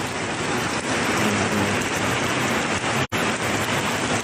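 Heavy rain pours down in North Minahasa near Manado during flash flooding, a dense, steady roaring hiss that continues without let-up apart from a split-second dropout.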